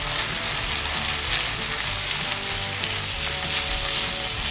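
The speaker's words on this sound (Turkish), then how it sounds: "Yine kıymamla kavurmaya devam ediyorum." Ground beef sizzling in a pan with tomato and pepper paste, a dense, steady frying crackle heard up close with no talk.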